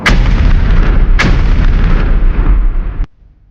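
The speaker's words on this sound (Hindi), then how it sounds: "इस जीप पर 106 mm M40 recoilless rifle fix की गई थी। टैंकों पर फायर किया गया।" In an animated 1971 India-Pakistan war scene, a jeep-mounted 106 mm M40 recoilless rifle fires at tanks. Two loud, close blasts sound about a second apart, each followed by a heavy sustained roar, and the sound cuts off abruptly.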